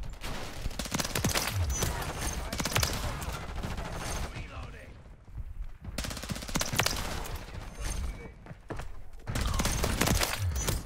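Rapid bursts of automatic gunfire rattle loudly in Modern Warfare III, coming in dense volleys separated by brief pauses, with a voice speaking briefly among the shots.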